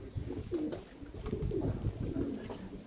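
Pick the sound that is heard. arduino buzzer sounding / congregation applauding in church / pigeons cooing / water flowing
pigeons cooing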